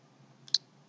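A single close, sharp computer mouse click, preceded by a faint softer tick, alone over a quiet low hum.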